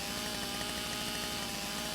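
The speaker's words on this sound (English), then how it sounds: "Let's cut this through with the chainsaw." A chainsaw cutting through wood in the video game Lumberjack Simulator, a continuous loud buzzing drone for the whole short stretch.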